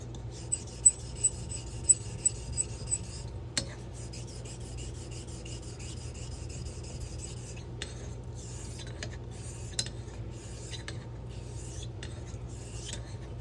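A super-curve straight razor is honed on a Coticule sharpening stone, with a series of quick scraping strokes, a few sharper clicks early on, then quieter, steady rubbing passes close by.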